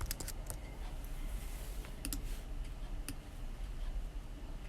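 A computer keyboard being typed on: a few short bursts of light key clicks with pauses between, faint and close over a steady low background hiss.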